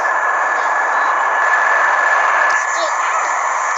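A train in a video game rumbles steadily with a constant hum and a sustained high tone throughout, while voices talk over it.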